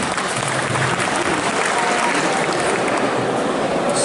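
Audience applause at a cosplay contest fills the room, steady and dense clapping from a sizeable crowd throughout, with faint voices mixed underneath.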